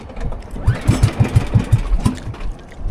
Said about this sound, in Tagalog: Wala, nasira na ang makina dahil sa nangyaring yun.